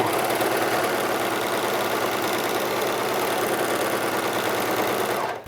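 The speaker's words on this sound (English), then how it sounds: "Stitch out a minimum of 20 inches of chain." A serger runs continuously while chaining off thread for cloth mask ties, a close, steady mechanical whir with a fast, even pulse that stops abruptly at the very end.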